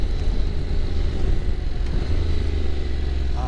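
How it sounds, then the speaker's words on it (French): A 2021 Honda NC750X DCT motorcycle in sport mode downshifting, its engine giving a loud, steady, close-up roar and rumble throughout with no speech over it. "le mode sport quand t'as rétrograde, madame, un rugissement qui est pas désagréable"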